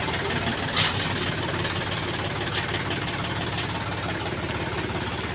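A tractor engine idling nearby, a steady low chugging throb with a faint knocking rhythm that holds evenly throughout.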